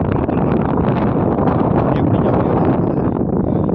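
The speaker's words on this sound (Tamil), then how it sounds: "இன்னொன்று காற்று அந்தளவுக்கு அடிக்குது" Strong wind roars steadily across a rocky mountain trail on Kontaranki hill, a loud, unbroken rush that buffets the microphone for the whole stretch.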